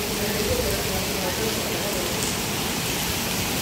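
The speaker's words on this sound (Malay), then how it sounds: "Hujan lebat." Heavy rain falls steadily as a dense, even hiss that fills the whole clip, with a low rumble underneath and no distinct drops standing out.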